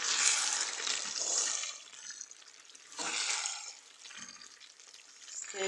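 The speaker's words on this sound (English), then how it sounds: "And then you stir together." Pasta with grated cheese being stirred in a pan gives a soft, wet scraping and light sizzle, rising and falling in a few slow strokes, quiet and close, with no talking.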